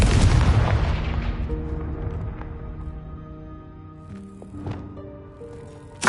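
A Confringo spell explodes in Hogwarts Legacy, a single heavy boom at the start that rumbles and fades over several seconds, followed by softer chimes and a faint pop near the end.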